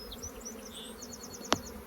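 Honey bees swarm inside an opened hive being split, a steady insect buzz with brief higher whines drifting over it and one sharp knock near the end.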